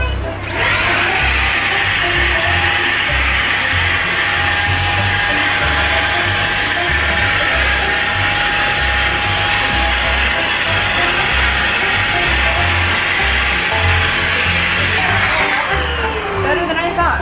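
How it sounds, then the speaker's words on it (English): Vacuum cleaner sucking wood chips out of a car seat, a loud steady roaring whine running almost continuously before winding down near the end, with rustling and knocking underneath. "I just had to vacuum out my seat"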